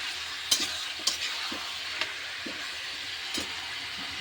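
Meat frying in a pan on a gas stove gives a soft steady sizzle, broken by a few sharp spoon scrapes and clinks as it is stirred, fairly quiet and close.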